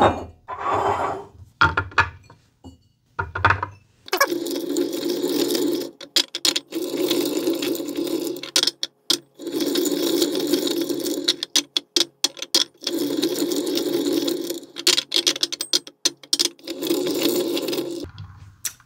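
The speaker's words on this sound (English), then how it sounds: "We have a whiskey wisdom wheel that we can use to spin these up." A whiskey wisdom wheel spins with a continuous clicking, ratcheting rattle that runs in long stretches with brief pauses, close and fairly loud, set among bourbon bottles.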